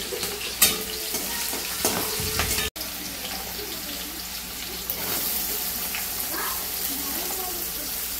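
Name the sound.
garlic, chili and onion frying in hot oil in a wok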